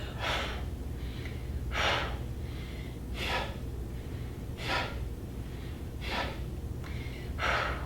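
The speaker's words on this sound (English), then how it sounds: "Big inhale, exhale, punch out one side. Back in, breathe out. And you can breathe out through your mouth or your nose" Six strong, forceful breaths are pushed out in a breathing exercise, one roughly every second and a half, each a short airy whoosh, close and fairly quiet.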